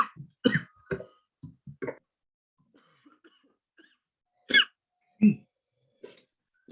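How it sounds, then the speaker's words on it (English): A person coughs repeatedly at close range, a cluster of harsh bursts at first, then a quiet gap with faint clicks, followed by a few more isolated coughs. "Lots of coughs."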